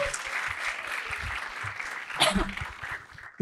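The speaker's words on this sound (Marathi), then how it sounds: "एकदा जोरदार टाळ्या ऋषीसाठी" Audience clapping rises for comedian Rushi at a Marathi stand-up comedy show, a fairly quiet, steady patter of hands with a few sharper claps and a brief cheer partway through.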